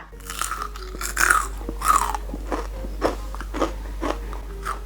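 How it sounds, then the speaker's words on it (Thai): Several crisp, crunchy bites of french fries followed by close-up chewing, loud and near with short pauses between crunches. "เดี๋ยวจะลองมา ชิมเฟรนฟรายให้ดูนะคะ"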